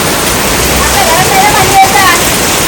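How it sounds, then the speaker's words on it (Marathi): Heavy rain falls steadily outside a house, a dense, even wash of noise that fills the whole scene without a break. "इकडे बघा पाऊस अजून भरपूर चालू आहे."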